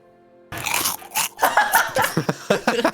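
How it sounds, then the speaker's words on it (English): Potato chips crunch close to the mic during a tabletop role-play session, a quick run of sharp, loud bites and chewing crackles repeating steadily after a brief silent start. "I've come up with a solution for my chip crunching"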